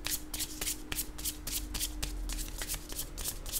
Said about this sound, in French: Attendez, je vais piger d'autres cartes, choisir d'autres cartes.